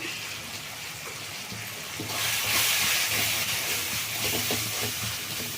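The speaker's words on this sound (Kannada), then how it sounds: "ಇದನ್ನು ಸ್ವಲ್ಪ ಎಣ್ಣೆನಲ್ಲಿ ಫ್ರೈ ಆಗಲಿ" Spices and vegetables frying in oil in a home kitchen, a steady broadband sizzling hiss that swells louder midway and holds, with no voices.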